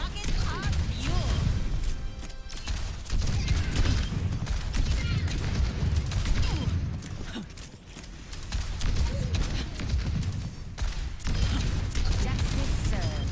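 Pharah fires rockets in the video game Overwatch 2: a dense, continuous barrage of launches, blasts and crashes layered with busy battle effects at high volume.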